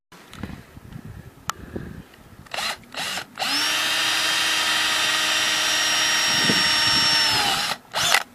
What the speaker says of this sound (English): drill all the holes